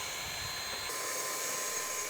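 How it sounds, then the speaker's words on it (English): A small vacuum sucks dust out of an Aroeve MK-01 air purifier with a steady, close-up whooshing roar that shifts in tone about a second in and then runs on evenly. "I am actually going to vacuum out some of this dust that's caught in here."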